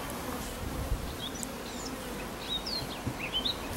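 Honey bees buzz in a full, open beehive on an organic tropical fruit and bee farm in Tenerife, a dense continuous hum with faint bird chirps above it and no talk.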